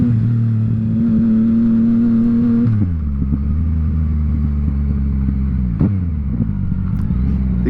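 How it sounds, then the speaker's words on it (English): A Yamaha MT-09 motorcycle engine rumbles loudly up close, its exhaust note holding a steady idle, then dropping and shifting in pitch as the revs change, with a brief sharper burst near the end and no voices. "The exhaust note has a nice little crackle to it."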